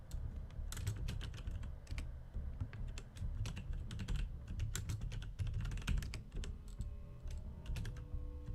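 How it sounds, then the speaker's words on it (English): Someone types on a computer keyboard at a steady, brisk pace, a run of close, quiet key clicks with short pauses and no voices. "that's why I'm intently looking at my screen and typing"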